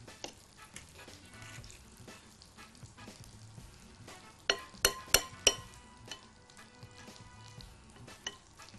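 Apple-filled dough pastries frying in a pan, giving a steady, close crackling sizzle with a cluster of sharp pops and spits midway and a few light clinks.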